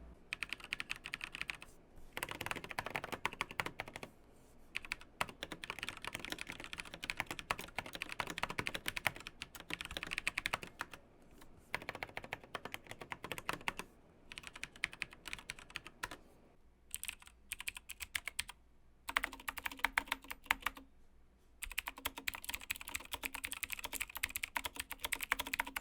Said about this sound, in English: I'm going to show you a sound test of the metal keycaps on the Black Widow Chroma